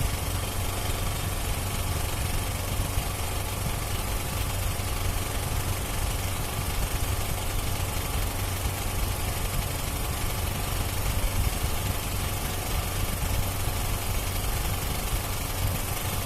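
Petrol generator engine running at a steady idle close by, an even droning hum with constant vibration and no voices.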